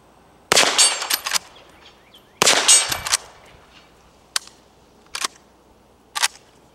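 A Marlin Model 1893 lever-action rifle in .38-55 Winchester fires two sharp, loud shots that echo briefly outdoors, followed by three quicker, lighter metallic clacks, likely the action being cycled.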